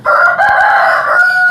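Lohmann Brown rooster crowing loudly and up close on a farm in Pakistan, one long sustained call with hen clucking faintly underneath.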